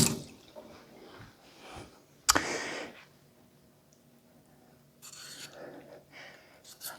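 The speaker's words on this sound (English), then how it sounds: "I want to rinse my knife also." Kitchen tap water runs over a knife being rinsed while preparing cabbage, with a hissing splash near 2.3 seconds, quieter dribbling and drips after, and a brief second gush of flow near the end.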